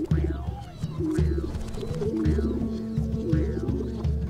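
A racing pigeon coos in repeated low, throaty rolling phrases, close and fairly clear, with faint background bird calls.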